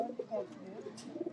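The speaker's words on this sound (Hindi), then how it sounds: "ये मेरे घर के चमकीली दुम वाले कबूतर हैं" Shiny-tailed domestic pigeons kept at a house coo in soft, low, rolling bursts close by, with a faint voice in the background.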